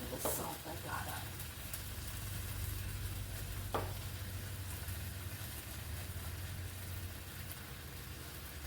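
Eggs seasoned with pepper and salt cook in a pan, producing a soft continuous sizzle with a low steady hum beneath and a couple of brief clatters near the start.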